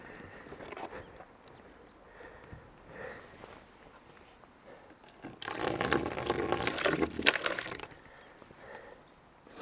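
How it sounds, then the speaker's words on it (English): Water is poured out of a wet shoe outdoors during a rainy bike ride in Norfolk. It comes as a brief gushing splash of a couple of seconds midway, with quieter rustling and handling sounds before and after. "let me first pour the water out my shoes"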